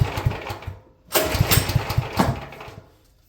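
A Champion generator engine cranks in a short sputtering burst, falls quiet for a moment, then catches and runs rough and uneven for a couple of seconds before dying away.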